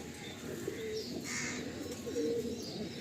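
Kalpetia pigeons cooing in a loft, soft throaty coos rising over a murmur of other birds and faint chirps, fairly close and with no one speaking.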